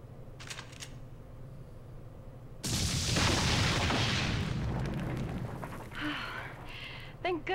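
A launcher weapon fires at a chandelier in the video game Lifeline, a sudden loud blast and crashing burst that rings out and decays over a few seconds, followed by scattered clinks and game sounds.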